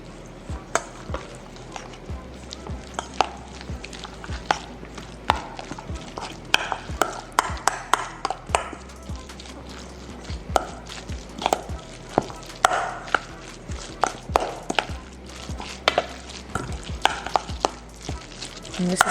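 Cheddar-topped stuffing for jumbo pasta shells being stirred and mixed in a bowl, with a steady run of sharp scraping clicks and soft squelches from the utensil, close up and without talk.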